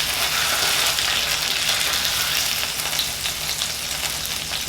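Onions frying in a pan on a stove burner, a steady, close, hissing sizzle that carries on evenly throughout without any talk.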